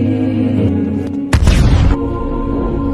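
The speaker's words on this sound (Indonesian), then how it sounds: "Lena mendekati tas milik Ken dan mengambil granat fosfor untuk kemudian dia akan ledakan di tangan si alien ini" Phosphorus grenade exploding in a science fiction film, a single loud broadband boom lasting about half a second that cuts through a dense, continuous score and background rumble.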